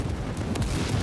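A missile strike detonates in the video game World War 3, a brief low rumbling blast with a short burst of crackling debris about midway through one second of dull booming.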